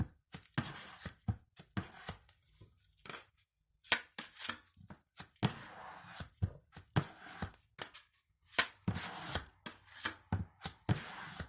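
Resin filler being mixed by hand on the lid of an old paint tub for restoring 16th-century panelling, heard as a run of close, sharp scraping and tapping strokes in irregular bursts, with brief pauses between them.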